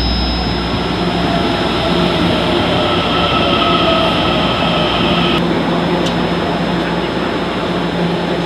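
An express train in Taiwan runs at speed, heard from inside as a loud, steady rumble and roar with a constant hum, continuous throughout with no talk.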